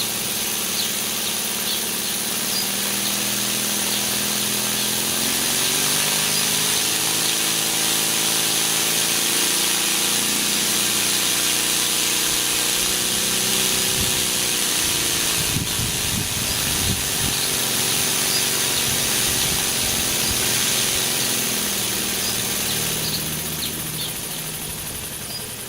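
Stuart D10 model steam engine runs continuously, a steady hissing chuff with a rising and falling mechanical drone, close and fairly loud throughout.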